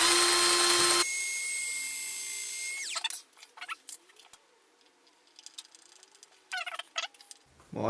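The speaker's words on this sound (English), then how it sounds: "I want to put a screw in here, on this one here" Power drill driving a screw into a wooden frame built to mount a dismantled TV for a Pac-Man cabinet: a steady high-pitched whine for about two seconds, winding down, followed by quieter intermittent bursts and handling noise.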